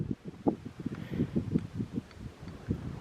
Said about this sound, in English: Oh, it's pretty windy.